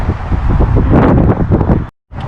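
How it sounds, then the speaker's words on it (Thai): Strong wind buffets the microphone in a loud, continuous outdoor rumble and roar, cutting out briefly to silence near the end. "วันนี้ลมแรง"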